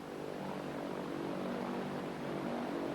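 An airplane engine drones in flight in a sci-fi action film, a continuous dense propeller roar held at steady moderate level throughout with no voices over it.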